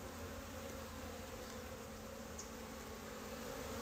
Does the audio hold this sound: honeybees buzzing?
yes